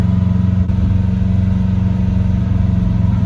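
A 1965 Chrysler 300L V8 idling, a loud, close, low pulsing rumble with an even, steady beat that holds throughout.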